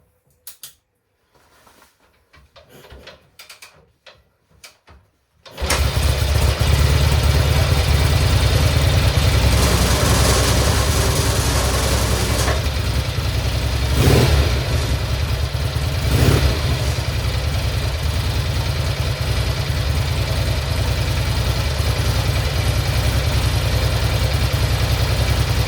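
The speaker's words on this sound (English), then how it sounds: "Turn the ignition on. See if we can get it going." A 1964 Norton Electra motorcycle engine catches after a few faint clicks and settles into a loud, steady idle close by, with brief revs swelling partway through.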